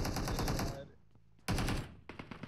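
Automatic gunfire in PUBG Mobile, a fast rattling burst, then a short pause, then another burst and a few scattered shots, loud and close.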